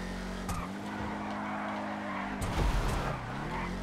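An Imponte Beater Dukes muscle car in GTA V brakes hard, its tires squealing and skidding over a steady engine drone, with a couple of louder scrapes near the end.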